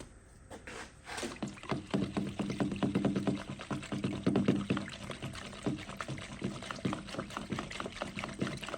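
Paint being mixed and poured into a spray gun for bullnose front tubs: close, continuous liquid sloshing and pouring with bubbly, splashy texture, steady and fairly loud after a quiet start.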